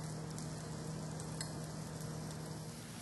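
Shrimp sizzling on a grill in a Cajun outdoor kitchen, a steady close frying crackle that stays constant with no talking.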